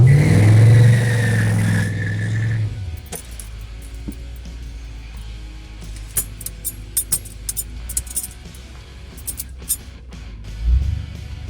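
An LS-swapped Chevrolet Caprice launches on a street test pass, its V8 roaring loud for about two seconds, then fading away into the distance, leaving quiet ambience with sharp clicks and a brief low thump near the end.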